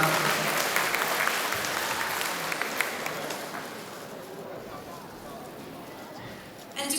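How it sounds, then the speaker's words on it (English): An audience at a runway fashion show applauds in a dense, continuous wash of clapping that holds steady and then slowly thins out, sounding like a large crowd in a hall. "one more round of applause for Mr. Jeremy Hana."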